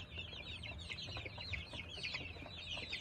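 Kuchin breed hens and chicks cluck and cheep in quick repeated calls, fairly close but soft, over a faint low background rumble with no talking.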